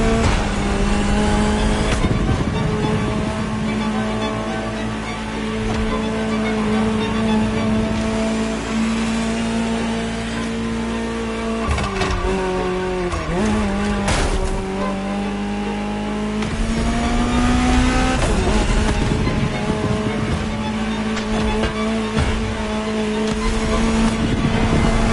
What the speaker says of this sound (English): Just listen to the car you're driving. She'll tell you her story herself.